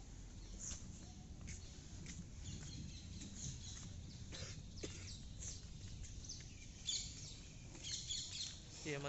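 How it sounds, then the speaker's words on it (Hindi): Birds chirp and sing outdoors at the Sun Temple in Gwalior, India, their scattered calls thin and fairly distant over a steady background hum. "ये आपको जो पक्षियों की आवाज़ आ रही है, कितनी सुंदर आवाज़ लग रही है,"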